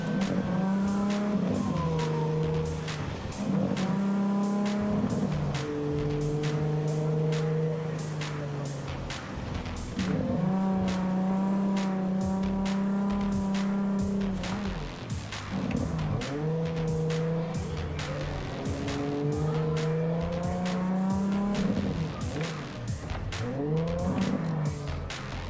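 A car driven by keyboard in Cyberpunk 2077's Night City, its engine droning and rising and falling in pitch through repeated gear shifts, steady and loud with no talking.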